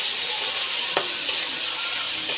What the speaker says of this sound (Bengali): মশলাটাকে ভালো করে কষাতে হবে নুন হলুদ কাশ্মীরি লঙ্কার গুঁড়ো জিরের গুঁড়ো